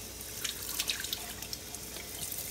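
Tomato seeds are rinsed under a running tap, giving a steady close hiss of flowing water with faint splashes and drips.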